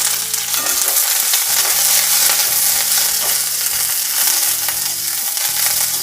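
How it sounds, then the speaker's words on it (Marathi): Four medium onions, sliced lengthwise, sizzle and fry in a hot wok, giving a loud, steady crackling hiss with occasional stirring, close up and with no talk. "4 मीडियम आकाराचे कांदे मी उभे चिरून घेतलेले आहेत, ते भाजण्यासाठी कढईमध्ये टाकते"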